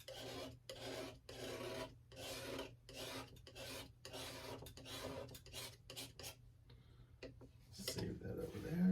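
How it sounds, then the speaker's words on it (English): A palette knife scrapes a paint palette in a rapid series of rasping strokes, close and fairly quiet, with short pauses between passes and a brief knock at the end. "So I'm going to scrape my palette again."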